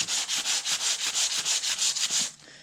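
Sandpaper of 100 grit rubbing back and forth along a wooden axe handle, roughly a dozen even, rhythmic scratchy strokes that are close and fairly loud, then a quiet pause at the end.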